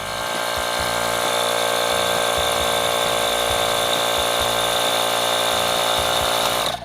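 A small air pump drones steadily and loudly for about seven seconds while inflating a Shocker air receiver hitch, with a faint mechanical ticking running underneath, then cuts off abruptly at the end.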